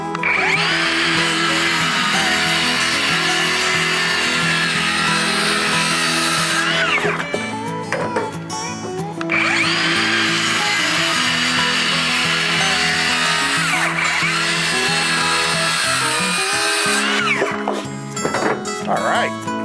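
A power saw cuts through wood pieces for a backyard pig feeder in two long, loud passes, each ending abruptly, with a short quieter gap between them.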